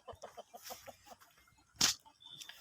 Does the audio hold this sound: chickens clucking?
yes